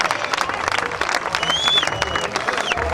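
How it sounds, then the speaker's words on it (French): Loud, thunderous applause from a large crowd at a paragliding or aerial sports show on the Swiss Riviera, continuous and dense throughout, with faint whistles rising over the clapping. "Un tonnerre d'applaudissements."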